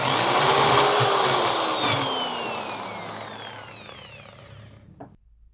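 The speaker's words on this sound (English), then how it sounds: "Now I'm taking the bigger drill," A power drill fitted with a number 8 bit bores into a wall with a loud, high whine. Its pitch falls slowly as the motor winds down, then it cuts off with a short clatter near the end.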